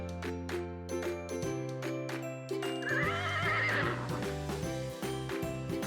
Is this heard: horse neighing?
yes